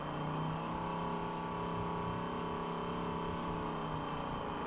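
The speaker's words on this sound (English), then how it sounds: "So this is the Petra. Starts off with a little bit of a whine." A Petra 3-gallon sprayer's pump runs with a steady, even electric whine and hum, holding a constant pitch from start to finish without any voices.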